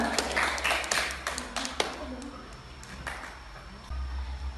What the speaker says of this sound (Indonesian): kita berikan tepuk tangan dulu untuk kelompoknya Tirta